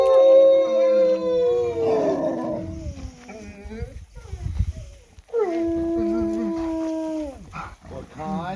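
Dogs howl in long, wavering, layered tones, loud and close, with a pause midway where people talk and a person's voice briefly imitates the howl before the dogs resume.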